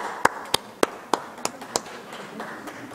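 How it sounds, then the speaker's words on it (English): Six or seven sharp, separate claps at a steady pace from graduates at a Vanderbilt University Next Steps graduation ceremony, close and distinct, then trailing into a faint scattered patter. "So would you applaud the people here?"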